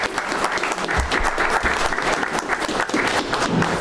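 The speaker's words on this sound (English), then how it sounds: "One more round of applause as he exits." Audience applause at a school district board meeting as an honoree exits, a full, continuous round of clapping from a crowded room with some nearby hands and murmurs mixed in.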